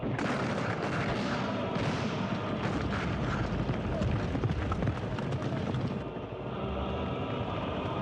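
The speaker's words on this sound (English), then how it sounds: "let's see some firing" Continuous dense musket and cannon fire in a movie reenactment of the Battle of the Pyramids, a loud sustained roar of battle with overlapping shots and possible hoofbeats, with no pause.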